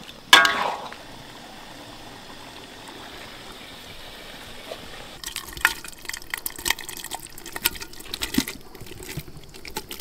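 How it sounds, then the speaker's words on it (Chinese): Water poured into a clay pot holding stir-fried tomatoes for tomato beef brisket. A brief splash comes first, then after a quiet stretch a steady, splashy stream of liquid runs for several seconds. "在砂锅里头加入适量的清水"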